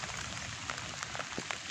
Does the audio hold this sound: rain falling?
yes